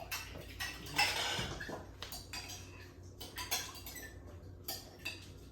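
A utensil clinks and taps against a bowl while egg is beaten into milk for Liberian chin chin, quiet irregular clatter close by with no talking.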